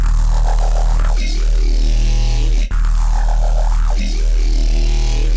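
A deep, sustained synth bass made with spectral wavetables, with a buzzy, shifting harmonic texture, playing in two long repeating phrases with a brief dropout in the middle.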